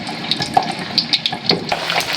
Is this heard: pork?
yes